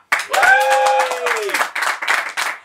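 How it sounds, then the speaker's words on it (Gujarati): A studio audience on a Gujarati talk show applauds to welcome the guest, actor Sanjay Goradia, with a brief voice over the start, then lively clapping bursts. "દિલથી, જોરદાર તાળીઓથી, હૂંફથી સ્વાગત કરો સંજય ગોરડિયા."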